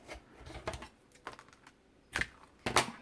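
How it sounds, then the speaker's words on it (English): Scissors snip off the long elastic band ends on a travelers notebook-style journal cover, making a handful of short, sharp clicks close by amid light handling noise, with no speech. "Snip those off."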